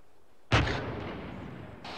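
A single loud gunshot or artillery-like blast in the ARMA 3 military video game booms and rolls into a long decaying echo, with another report starting right at the end.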